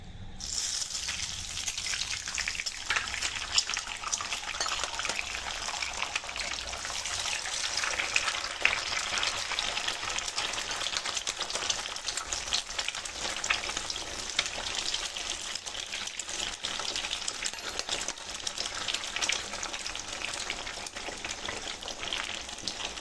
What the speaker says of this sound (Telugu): దీంట్లో 4 ఎగ్స్ చెదగొట్టుకుని వేసుకోవాలండి